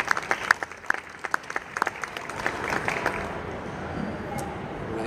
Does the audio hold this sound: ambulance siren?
no